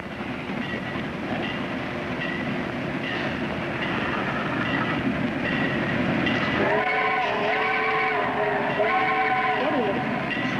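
A rumbling train rolls along at a distance, joined partway through by a long, wavering horn blast, with faint voices underneath.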